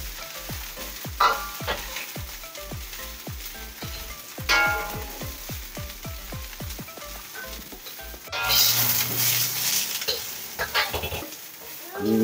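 Beef and broccoli stir-frying in a large wok: steady sizzle with rhythmic scraping strokes of a spatula, then a louder burst of hissing frying as more food goes in.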